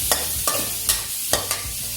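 Shrimp and sweet peas stir-fry over medium heat in a pan, a soft steady sizzle broken by several sharp scrapes and clanks of a spatula at an irregular rhythm, close and clear with no talk.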